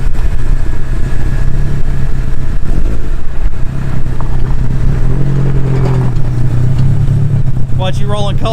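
A diesel vehicle revs and runs loudly and close by, engine rumbling under people talking, with a higher rising rev near the end.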